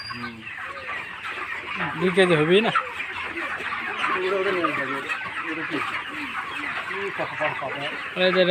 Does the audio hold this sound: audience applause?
no